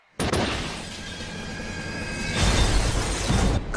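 A sniper rifle shot in a movie scene, a sudden loud blast followed by a sustained, rumbling and crackling tail with a second swell of noise.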